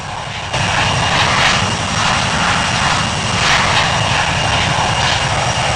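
Airbus A350 airliner engines roar on takeoff, a loud sustained broadband rumble and whine that holds steady with slight swells, close and unbroken, with no talk.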